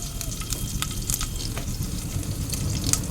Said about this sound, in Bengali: কড়াইয়ে তেল দিয়ে দিয়েছি। এই দেখো, শুকনো লঙ্কা দিয়ে দিলাম, তেজপাতা দিয়ে দিলাম, আর এখানে জিরে আর মৌরি ফোড়নে দিয়ে দিলাম।